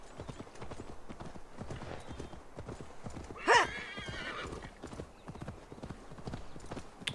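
A horse in Assassin's Creed Valhalla clip-clops steadily at a gallop throughout, with a short, loud whinny cutting through near the middle.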